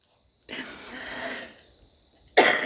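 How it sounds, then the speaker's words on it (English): A single raspy cough from a woman in a quiet indoor setting, followed by a brief pause and a sharper burst at the end, close to the microphone. "I shouldn't cough too much."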